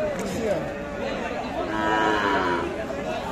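Friesian calves low at a busy village cattle market, one drawn-out moo rising over the background chatter of the crowd, with voices talking nearby.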